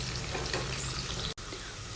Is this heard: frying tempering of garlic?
yes